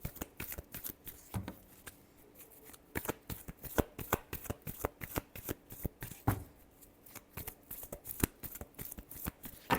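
Tarot cards being shuffled by hand: a steady run of quick, crisp riffling and slapping bursts, close and clear, with no talking.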